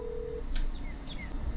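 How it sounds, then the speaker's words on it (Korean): Smartphone placing a call through Google Assistant, a single steady electronic tone lasting under half a second followed by faint chirpy blips over a low background hum. "IB96 휴대전화에 전화를 거는 중입니다."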